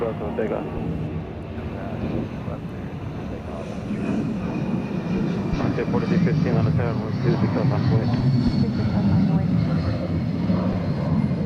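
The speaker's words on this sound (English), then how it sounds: "We're lucky enough to see the planes go by us" Airplanes passing by at Atlanta airport, a broad steady engine rumble that swells slightly midway and holds loud throughout, with people talking in the background.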